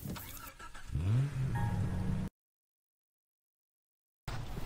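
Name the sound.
car engine starting and driving in the video game Far Cry 3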